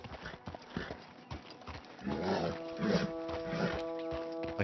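Horse hooves clip-clopping in Red Dead Redemption 2 at a walking pace, a steady rhythm of close, moderately loud footfalls with a louder snort or neigh-like burst in the latter half.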